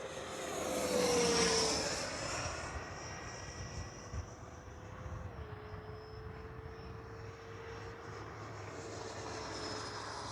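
A Freewing 80mm F9F Cougar RC jet flies at about half throttle. Its ducted-fan whine swells as it passes early on, then settles into a steady, more distant drone.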